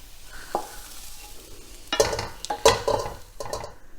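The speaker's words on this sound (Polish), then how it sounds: "teraz wrzucamy ją do tego samego garnka co pieczarki" Chopped onion is tipped into a hot pot with mushrooms and sizzles, followed by clattering utensil stirring against the metal, close by, while cooking lecho.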